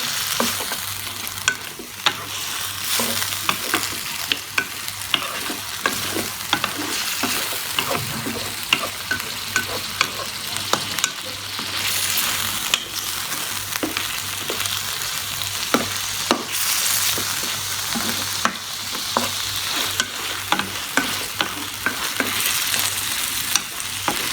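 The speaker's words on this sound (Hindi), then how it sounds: "मैं इसको 5 मिनट तक इसी मसाले में फ्राई करूँगी ताकि गोश्त अपना कलर चेंज कर ले।" Mutton pieces fry and sizzle steadily in a spice masala while a spoon stirs and scrapes the pan in frequent clicks, a continuous close hiss with no talking.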